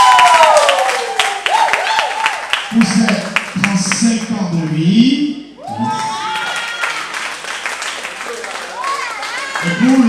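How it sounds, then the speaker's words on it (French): A concert audience claps and cheers steadily beneath a French-speaking announcer's voice, the applause spread throughout as a continuous rattle behind the talk. "qu'on applaudit très fort s'il vous plaît"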